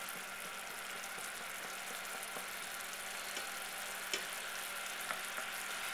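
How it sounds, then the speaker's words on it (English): Sugar heating in a pan over a burner bubbles and sizzles with a steady, dense hiss as it begins to caramelize, with a few faint clicks and pops rising above the constant texture. "our sugar is starting to boil as well"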